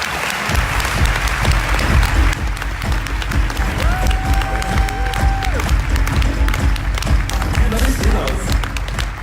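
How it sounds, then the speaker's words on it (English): Large crowd applause at the TomX 2018 event for opening speaker Jason Farris, loud dense clapping sustained throughout, with a brief tonal sound and voices faintly mixed in partway through. "Jason Farris, give a huge round of applause."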